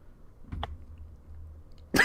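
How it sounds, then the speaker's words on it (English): A single short cough from a gaming commentator during a Pokémon monotype tournament broadcast, sharp and fairly close, with a second louder burst near the end and otherwise quiet surroundings. "I'm sorry, I'm coughing"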